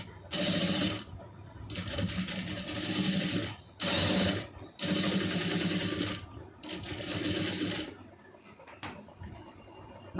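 A sewing machine stitches a lining into a bridal blouse in several runs of steady whirring, each a second or two long, separated by short pauses before a final quieter stretch, close up and clear.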